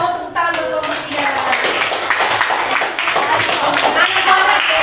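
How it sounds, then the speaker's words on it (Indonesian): Children in a classroom clap together for group 3, a dense steady patter of small hands filling the whole stretch, with an adult voice briefly audible at the start. "Masya Allah, tepuk tangan dong kelompok 3."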